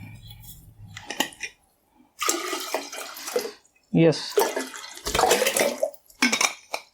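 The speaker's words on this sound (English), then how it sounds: "let me just add some more water so that it is not too dark" Water is poured into a container in several splashy bursts with pauses between them, while a voice speaks briefly.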